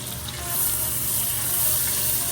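Chopped Trinity vegetables cooking down in a pot for red beans and rice, giving a steady wet hiss and gentle sizzle that holds at a moderate, even level throughout with no talk.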